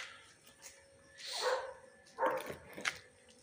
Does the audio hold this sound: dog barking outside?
yes